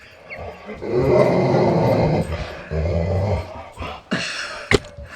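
A dog playing with a ball indoors growls and roars loudly and close up in long rough bursts, ending with a sharp yip and a clatter.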